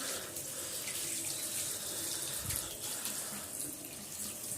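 Tap water runs steadily into a sink while a feeding bowl is filled and washed, a constant close hiss with one brief splash partway through.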